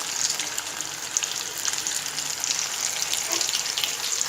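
Chicken pieces frying in hot oil and turned with a spatula, producing a loud, continuous, close-up sizzle with faint scraping.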